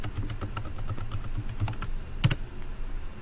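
A password is typed on a computer keyboard: a quiet string of quick, irregular key clicks with one louder tap near the end, heard alone.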